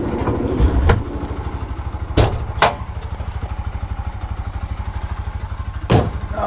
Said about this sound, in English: let's get it fired up, get it warmed up